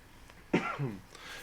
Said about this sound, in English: Sorry, I had to clear my throat here.